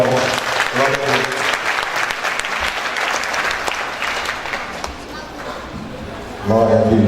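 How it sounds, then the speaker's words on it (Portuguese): Congregation applauding loudly during a Brazilian evangelical church service, a dense wash of clapping with voices mixed in throughout, dipping slightly before a fresh burst near the end. "Aplauda, Senhor, bem forte."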